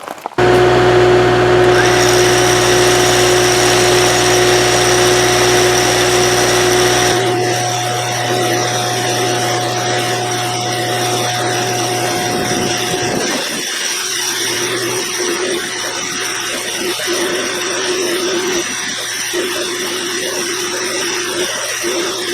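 A tractor-mounted winch reels in replacement rope while the tractor engine runs, with a loud, steady mechanical whine and hum close by that shifts in tone partway through.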